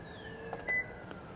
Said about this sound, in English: And it went beep.